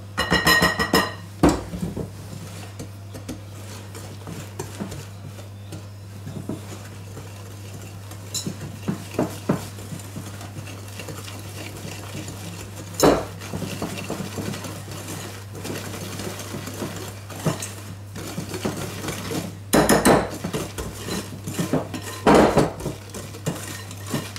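Whipped egg whites folded into chocolate Yule log batter in a bowl, with scraping and clinking of a utensil against the bowl over a steady low mechanical hum, plus a few louder knocks.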